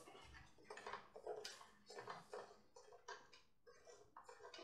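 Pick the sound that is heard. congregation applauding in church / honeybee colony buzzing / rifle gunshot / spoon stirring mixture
spoon stirring mixture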